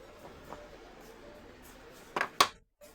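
An airtight bamboo container with a bamboo lid, part of an eight-piece lock-style set, is handled: a few soft knocks early on, then two sharp close clacks near the end over a quiet background.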